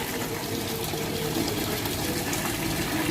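Vegetable soup pours steadily into a 20 litre drum in a soup kitchen, a continuous loud liquid rush and gurgle with no break and no talking.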